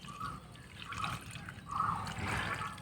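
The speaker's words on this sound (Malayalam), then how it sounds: "അതുപോലെ തന്നെ ഈ ഒരു പോട്ടിലും വെള്ളം ഒഴിച്ചു കൊടുക്കുന്നുണ്ട്" Water trickling and splashing as it is poured into a small potted money plant, a soft close pour in short bursts with quiet gaps between.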